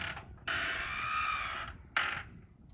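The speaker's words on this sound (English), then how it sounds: "The door just don't close. Noisy as can be." A screen porch door creaks loudly in a long drawn-out groan, then a shorter creak follows a moment later, with no voices.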